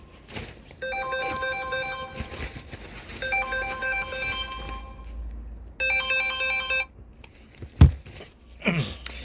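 A phone ringtone from a spam call plays a repeating melodic pattern in several bursts, fairly loud over a low background hum, then stops before a few clunky handling knocks.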